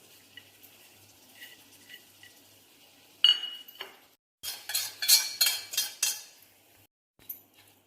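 Spoon clinking and scraping in a bowl while spiced stuffing for bitter gourd is mixed, a burst of several close, bright clinks after a quiet stretch with faint ticks.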